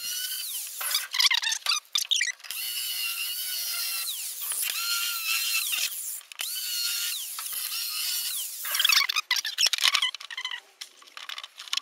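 A power tool cuts GRP fibreglass in close, high-pitched whining, grinding bursts. The pitch sweeps up and down as the blade bites, with brief pauses and rattles between passes.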